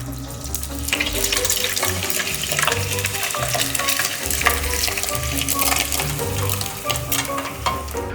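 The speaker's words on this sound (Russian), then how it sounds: "Ну а пока что заливаем жиром утиные ножки." Duck legs covered with poured fat sizzle and crackle in a pan for a duck, potato and cheese bake, giving a steady, close frying hiss with faint liquid sounds and no talk.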